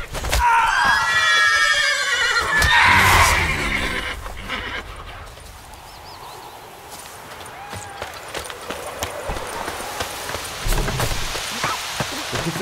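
A horse neighs loudly in the Witcher 3 video game, a shrill whinny near the start, followed by rain, scattered clopping and background game sounds.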